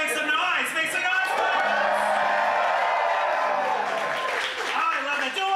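Dense crowd noise at a Tampa school bus race event, loud cheering, whooping and screaming with scattered shouts, sustained at full level for the whole stretch.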